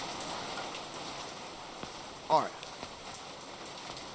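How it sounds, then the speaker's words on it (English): Steady rain patters in a video game throughout, with a short voice speaking briefly partway through and a few small clicks. "it's still raining"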